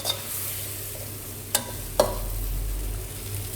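Thai chili slices stir-fried for a crispy pork basil stir-fry, a steady hot sizzle with a few sharp scrapes of the spatula against the pan.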